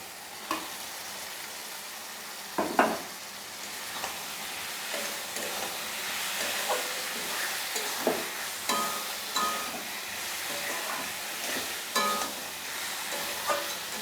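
Fried kakrol (spiny gourd) is stirred into cooked masala in a pan, with a continuous close sizzle broken by repeated spoon scrapes and knocks every second or so.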